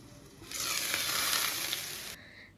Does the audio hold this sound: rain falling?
no